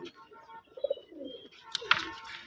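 Coos from a pair of local Bangladeshi pigeons of the round-headed coloured breed, heard as a few short, low, close calls in a quiet setting.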